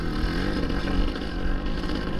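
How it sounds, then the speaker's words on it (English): Dirt bike on a single track enduro trail in the Nelson Hills, Nevada, its engine a steady, loud, close drone throughout, with no talking. "That was a cool bike."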